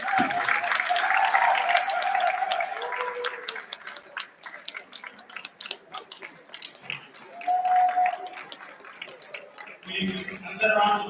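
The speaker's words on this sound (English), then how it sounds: "Please, another round of applause for our brother, the chairperson of FIDA." An audience at a law week event in Jos applauds, dense clapping that builds at the start then thins into scattered claps, with a speaker's voice on a PA system heard over and between them.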